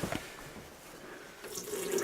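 Water runs from a tap in a toilet room, a soft steady flow at close range that swells slightly toward the end.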